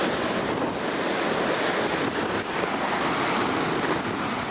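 Wind and surf during Tropical Storm Lee: a loud, continuous roar of waves with wind buffeting the microphone, broadband and unbroken, with no voices.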